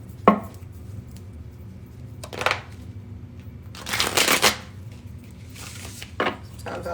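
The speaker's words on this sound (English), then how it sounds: "Sometimes I like to hear a good, feel a good, new fresh shuffle" A deck of cards is shuffled close up in a few short riffling bursts, with light handling noises between them.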